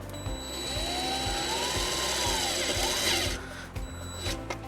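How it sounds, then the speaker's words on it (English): A power drill drives a self-tapping screw into the metal frame of a 2018 Honda Fit, a steady whirring motor rising and falling in pitch for about three seconds before cutting out, with brief mechanical clicks afterward. "Now we're going to take our provided self-tapping screw and ground the white wire to the frame"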